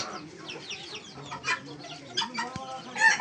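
Several turkey hybrid chickens cluck and murmur close by, with short rising calls from a rooster scattered through the clip.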